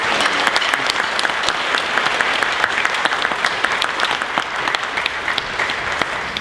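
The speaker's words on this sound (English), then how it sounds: "could you give all of our administrators and staff just a round of applause?" An audience claps for school administrators and staff at a high school jazz band concert, a dense, steady round of applause with crisp individual claps, loud and sustained without voices.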